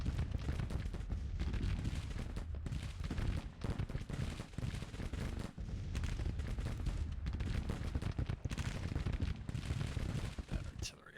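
Dense, continuous battle din from a Civil War video game, with rolling artillery fire and scattered musket shots packed into a loud, sustained roar across the whole stretch, a voice speaking faintly beneath.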